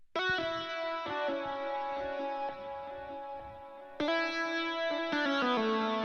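Heavily distorted lead guitar sample from the Expand Dirty Amped 56 preset, treated with delay and flanger, plays sustained loud notes with a few pitch changes and sharp re-attacks near the end, no voices.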